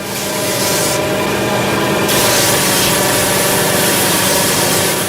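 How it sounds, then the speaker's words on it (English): A power sander rasps continuously against a wooden hurley, a loud, steady abrasive whir that holds for the whole stretch with no pauses. "The sanding machine has speeded up this part of the job."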